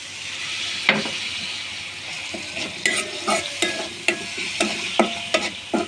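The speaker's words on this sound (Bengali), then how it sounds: "2-3 বার পানি দিয়ে এই মশলাটা আমি কষাবো" Masala of ginger and garlic pastes with ground cumin and a splash of water being stirred in a hot pan: repeated scraping spatula strokes over a continuous close sizzle.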